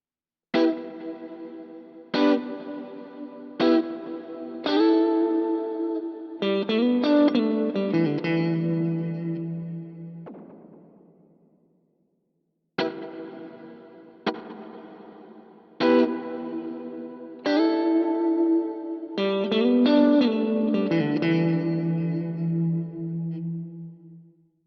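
Electric guitar played through delay and reverb effects, first at a 50% mix and then at 25%, with chords and notes ringing out into long echoing washes, a brief pause between the two passes.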